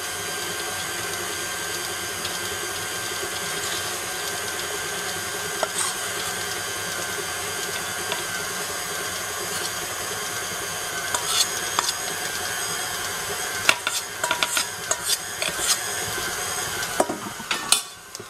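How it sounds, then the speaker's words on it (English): An electric mixer beats Christmas cookie dough with a steady mechanical whir and hum, and a few scraping clicks come near the end. "if you need to turn the mixer up as you're going, you can do that as well"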